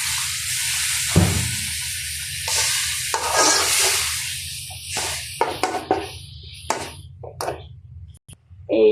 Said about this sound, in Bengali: এই যে মশলা কষিয়ে নিলাম